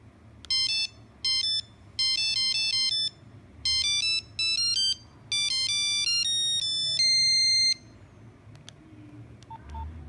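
Simpsons theme ringtone composed on a Nokia 3330 phone, played as a loud monophonic sequence of bright electronic beeps in short phrases ending on a held tone, over faint background hum.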